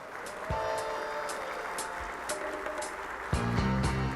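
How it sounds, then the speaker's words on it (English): A crowd at a men's town hall luncheon applauds, a steady wash of clapping with music, scattered cheers and voices mixed over it, swelling louder toward the end. "let's give each of them a warm round of applause"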